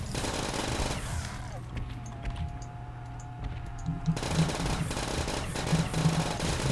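Rapid automatic gunfire in a Call of Duty Zombies match, dense bursts in the opening second and again from about four seconds on, with a quieter stretch holding a steady tone between them.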